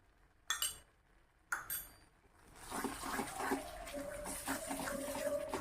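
Two brief clinks, then a rushing pour of boiled hot water into a pan of farsan curry that swells into a continuous sizzling, bubbling hiss.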